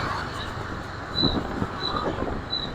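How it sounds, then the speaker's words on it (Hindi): A train sits or moves at a railway station in Da Nang, Vietnam, giving a steady close rumble with faint high metallic squeals drifting over it. "ये सामने आ गया रेलवे स्टेशन।"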